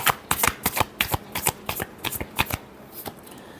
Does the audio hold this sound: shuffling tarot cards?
yes